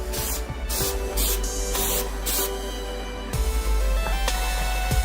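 Spray paint hisses steadily as a third coat goes onto a car shifter part, a broad continuous spray running nearly the whole time with brief dips between passes.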